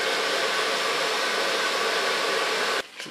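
A hair dryer blowing hot air while drying a short pixie cut in a salon, a loud constant whoosh close by that cuts off abruptly near the end, with no talking.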